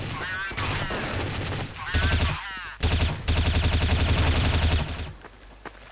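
Rapid bursts of gunfire in the video game Counter-Strike: Source, loud and tightly repeated in several runs with brief pauses, mixed with game sounds and voices.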